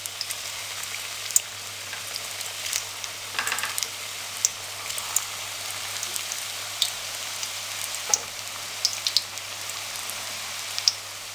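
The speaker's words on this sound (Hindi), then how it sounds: "अब इनको हम फ्राई करेंगे।" Chicken and potato seekh kebabs fry in hot oil in a kadai over medium flame, a steady, fairly quiet crackle with scattered sharp pops and spits throughout, no voices.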